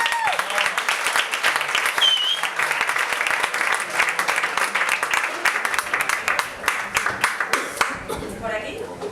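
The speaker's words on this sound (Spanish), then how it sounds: "así que un aplauso y gracias, Edu." Sustained audience applause at a live music performance fills the space, a dense wash of clapping with a few whistles and cheers, tapering to scattered claps at the end.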